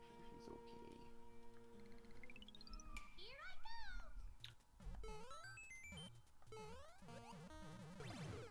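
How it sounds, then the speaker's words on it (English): A little house cat meows with a few short, rising cries that sit faintly beneath busy, bleepy video-game music and sound effects. "Little kitty crying."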